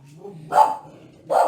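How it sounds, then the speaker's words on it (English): Two loud, close dog barks ring out about a second apart indoors, with a low whine or hum underneath between them. "please excuse my dogs barking"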